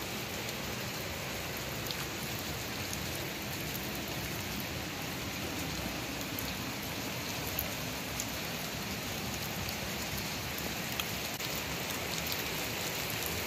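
Steady rain falls and patters on surfaces as a dense, even hiss that carries on unbroken for the whole stretch, close and moderately loud, with no voices over it.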